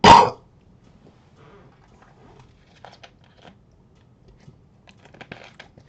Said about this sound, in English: we have a cough again